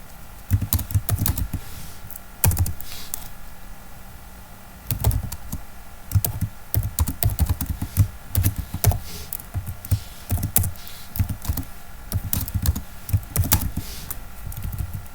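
Steady typing on a computer keyboard while writing code in RStudio: fast, close clusters of key clicks and thunks with brief pauses between bursts, and no talking.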